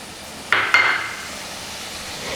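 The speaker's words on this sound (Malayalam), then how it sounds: "ഇനി നമുക്ക് ഇതിനകത്തോട്ട് അരിഞ്ഞു വെച്ചിരിക്കുന്ന തക്കാളി ചേർത്ത് കൊടുക്കാം" Chopped tomatoes tipped into a pan of sautéed spice powders for a Kerala fish dish cooked in banana leaf: two quick metallic clinks of a utensil on the pan, followed by a short sizzle that fades, close and loud with no talk.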